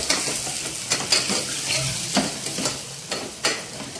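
Two medium onions sizzle in a pan for a mutton curry while a spoon stirs them, sending several distinct scrapes and clatters over a constant frying hiss, near and clear with no speech.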